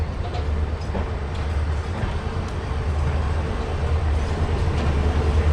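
Amritsar-Bikaner Super Fast Express running on its route, hauled by two WDG4 diesel locomotives, with a steady low rumble and a continuous rolling drone heard from aboard the moving train.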